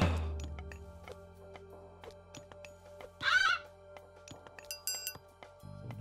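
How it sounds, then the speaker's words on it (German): Odin's raven in Age of Mythology gives a brief, rasping caw in the middle, set among faint game clicks, chimes and a low ambient hum. "Das ist ein Odin-Rabe, der mich ausspionieren will."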